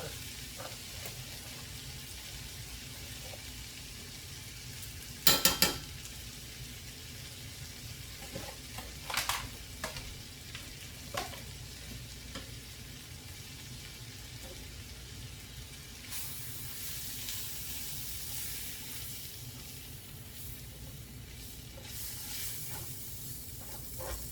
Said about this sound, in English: Cook this a couple minutes to get that raw flour taste out of the flour.